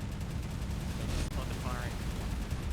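Gunfire in the Space Engineers space combat game: a dense, sustained roar of weapons fire that fills the whole clip at steady loudness, with a brief rising chirp partway through.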